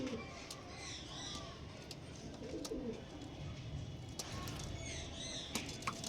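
High-quality pigeons, among them hens for sale, coo softly in a loft while wings flap in brief bursts, with voices talking in the background.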